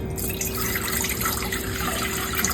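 Water poured steadily into a pot for miso soup, around two and a half cups, as one continuous close splashing rush with no pauses.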